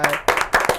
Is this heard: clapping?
yes